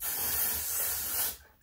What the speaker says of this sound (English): spray some at the roots